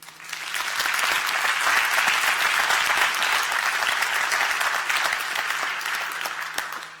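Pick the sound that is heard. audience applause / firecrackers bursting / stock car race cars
audience applause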